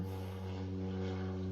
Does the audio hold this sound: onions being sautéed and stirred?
no